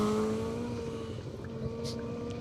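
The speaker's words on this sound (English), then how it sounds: "Oh, the noise of a proper Group A Subaru Boxer engine just takes some beating, doesn't it?" Group A Subaru rally car with a boxer engine on an asphalt rally stage, a steady engine drone holding at moderate distance for a couple of seconds, with a faint higher-pitched squeal near the end.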